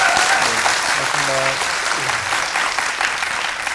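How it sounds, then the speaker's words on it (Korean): Steady, loud applause rises from a film audience at a Q&A for the Korean movie Deliver Us from Evil, with a brief spoken phrase briefly heard underneath the clapping. "만족감이 크게 드셨다면 큰 박수 부탁드립니다."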